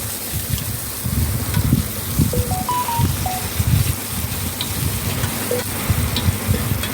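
Coriander and curry leaves sizzle and fry steadily in hot oil for tomato rasam, with occasional stirring scrapes and no talking.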